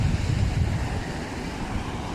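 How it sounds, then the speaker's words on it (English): Strong ocean surf rolling onto a beach shoreline in Aruba, a steady broad wash of breaking waves mixed with wind noise on the microphone, continuous and fairly close with no talking. "Pretty strong waves, and they come pretty close into the shoreline."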